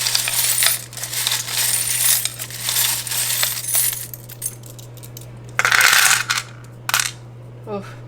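Small metal charms rattle and clatter as they are shaken and dropped onto a surface in several bursts, with brief pauses between them and no talking.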